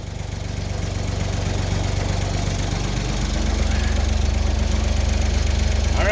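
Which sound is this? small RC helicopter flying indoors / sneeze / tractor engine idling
tractor engine idling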